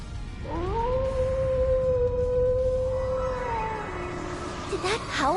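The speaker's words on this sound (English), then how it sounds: "Did that howl cancel out the artifact's power?" A wolf gives one long, sustained howl in the video game Trails into Reverie. It rises, holds steady for several seconds, then drops off, and a voice and other sounds follow at the end.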